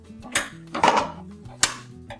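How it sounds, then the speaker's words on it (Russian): A metallic clatter of a pot of rice being handled and set down on a stove, with a sharp clunk near the middle and lighter knocks around it, close by. "Немного перемешиваю и ставлю кастрюлю на плиту."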